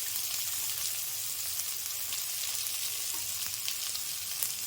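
Steady, bright sizzling of onions frying in a hot pan, continuous crackle with occasional pops, no voices.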